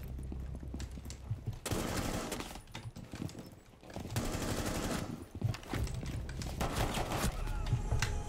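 Gunshots in Rainbow Six Siege, including pistol fire: sharp cracks in clustered bursts separated by quieter pauses, loud and near, with a couple of heavy flurries of rapid fire.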